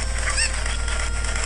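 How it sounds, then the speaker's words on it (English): Cucco chickens from the Zelda game Ocarina of Time make a short burst of squawking, honking fowl calls over steady game background sound, loud and close for about a second and a half. "Get these cuckoos."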